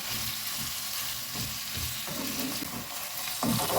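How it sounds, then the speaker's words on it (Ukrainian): Sausages fry in a pan over medium heat with a steady, dense sizzle and crackle, close up and continuous, with no talking. "Продовжую смажити до 5-7 хвилин на середньому вогні, щоб ковбаски добре просмажилися"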